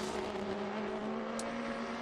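GTC race cars from the American Le Mans Series at Road America sweep through the kink, a steady high engine drone holding pitch with a faint tire squeal, heard at moderate distance without commentary.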